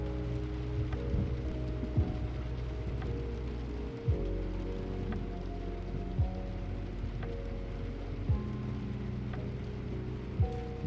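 Steady rain patters on a surface throughout, a continuous soft wash under a low hum, with a few faint clicks and thumps.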